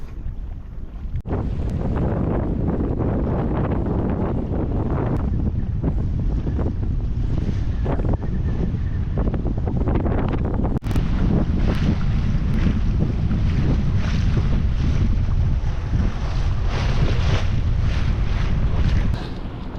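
Sailing yacht underway in fair wind off the north end of Jura, Scotland: loud, continuous wind buffeting and rushing water around the hull for twenty seconds, with no voices.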